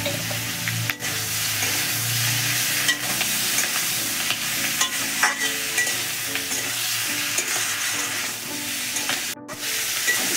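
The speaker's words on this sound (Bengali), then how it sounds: "বেগুন আর পেঁয়াজ কলি হালকা ভাজা হয়ে গেছে," Eggplant and onion stalks fry in oil in a wok with a steady, loud sizzle, and a utensil stirs and scrapes through them throughout. No voices are heard.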